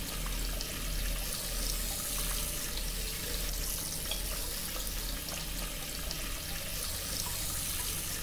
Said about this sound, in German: Ich fülle jetzt den Eimer mit Wasser.